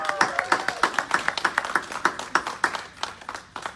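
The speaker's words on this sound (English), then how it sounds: "Let's give a round of applause." Applause from the audience at the Mayor of Aurora's media briefing, announcing the 47th Annual Puerto Rican Parade: a few people clapping in uneven, fairly sparse rhythm, close and moderately loud, with a faint voice at the start.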